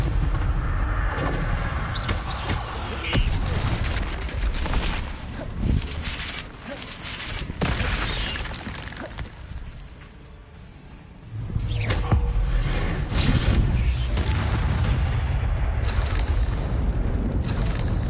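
Spell blasts and explosions in the Hogwarts Legacy video game, a dense run of booming impacts and bursts with a brief lull near the middle, loud and continuous, with some voices mixed in.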